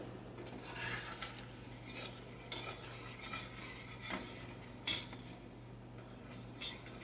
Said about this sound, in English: I'm just going to stir this